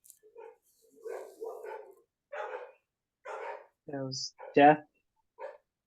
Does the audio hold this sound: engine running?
no